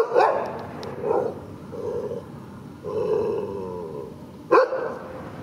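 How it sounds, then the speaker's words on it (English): A dog guarding a house in Cuenca, Ecuador barks in several short bursts spaced across the moment, fairly close and clear, with brief growly yips between. "There's a doggy."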